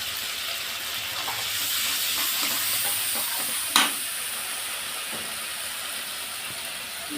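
Turmeric and dried chilli powder, with salt, fry and get stirred in a hot pan for a Bengali rohu fish dish. The sizzle is steady and loud, with soft scraping throughout and one sharp utensil clack.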